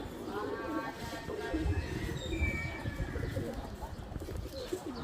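Several restless racing pigeons coo repeatedly inside a cage, soft throaty rolling calls overlapping close by, with light chirps and shuffling and a voice talking intermittently underneath.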